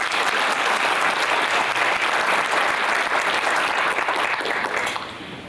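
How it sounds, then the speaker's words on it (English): A large graduation audience gives loud, sustained applause for award-winning students, a dense steady wash of clapping that tapers off in the final half second. "Give a clap."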